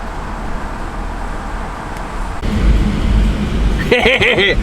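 A Mercedes-AMG C63 W204 tuner car drives along a street, its engine a low droning rumble inside the cabin that swells louder partway through, with traffic noise around and a brief burst of higher tones near the end.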